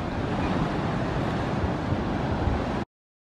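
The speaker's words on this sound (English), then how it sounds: "I don't even know if you could hear me because of the ocean." Ocean waves wash onto the shore in a loud, continuous roar, mixed with wind buffeting the microphone, before cutting off abruptly.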